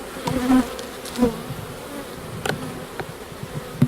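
Honeybees buzz around a hive in an apiary in spring, a continuous close, moderately loud hum with individual bees droning past in brief swells.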